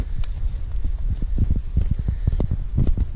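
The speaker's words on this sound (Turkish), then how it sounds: "Çok güzel yayılıyor keçilerimiz." Goats move about a farm barn, their hooves striking the floor in a quick, irregular run of close, sharp clopping steps that continues without pause and without voices.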